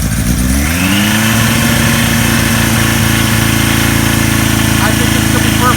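A cold 1978 Kawasaki KZ1000 motorcycle engine on choke catches and settles into a loud, steady, fast idle, its throbbing exhaust note continuous and close throughout.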